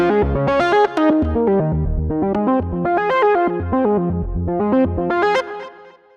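A bright Arturia Juno-6 synthesizer emulation plays a quick, busy melodic line with chorus-like shimmer, loud and continuous before fading at the end.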